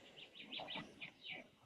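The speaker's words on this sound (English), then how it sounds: "I love those birds" Small birds chirp and tweet in the background, a series of short bright calls in quick bursts that come and go, heard faintly from a distance with no talking.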